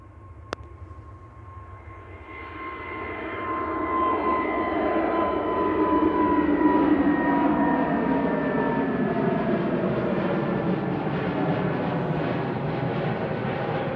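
An easyJet Airbus A320neo jet at Manchester Airport builds into a steady engine roar with a whining tone, rising after the first couple of seconds and holding loud and continuous.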